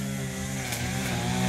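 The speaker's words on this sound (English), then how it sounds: "Him with his lawnmower and trimmer, and me with my chainsaw." A chainsaw runs steadily through a jacaranda tree trunk in a backyard, a fairly quiet, sustained buzzing drone with slight rises in pitch and no voices.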